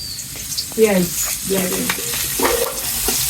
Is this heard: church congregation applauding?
no